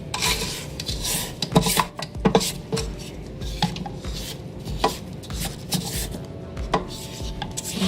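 A spatula scrapes homemade 7 UP cake batter off the walls of a mixing bowl in close, rough rubbing strokes with occasional knocks against the bowl. No one speaks.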